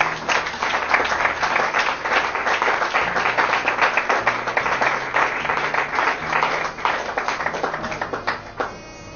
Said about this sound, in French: Acclamons quand même le Seigneur pour ça.